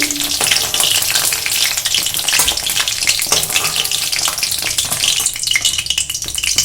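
Slices of pointed gourd sizzle steadily in hot oil in a pan, a dense, continuous crackling hiss that stays loud and close throughout with no voices.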